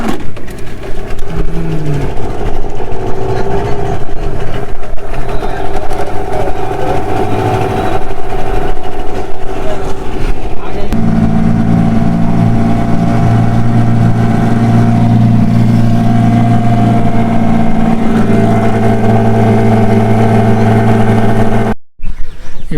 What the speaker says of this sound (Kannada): boat start ಆಗುತ್ತೀಗ